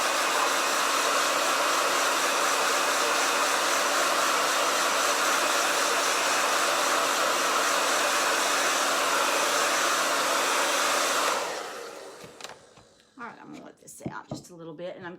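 A hair dryer blows on a freshly made craft piece, a loud steady roar running close and continuous for about eleven seconds before cutting off, followed by light handling clatter.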